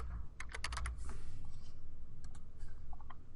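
Rapid clatter of keystrokes on a computer keyboard while entering Java code, a quick burst of close clicks followed by a few scattered presses over a low steady hum.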